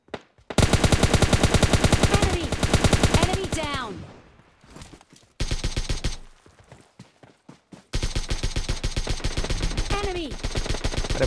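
Rapid bursts of automatic gunfire ring out in the PUBG Lite battle royale, in long, dense volleys with brief gaps and a clipped break between them, loud and close.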